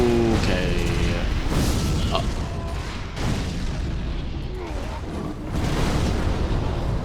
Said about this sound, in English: Okay, I'm getting shot by the enemy.